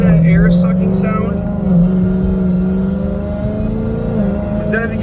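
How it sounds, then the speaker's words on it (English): A Whipple stage 2 supercharged 2019 Mustang GT pulling away from a light makes a loud, steady engine drone and rumble, with a faint airy intake rush over it. "Can you guys hear that air sucking sound?"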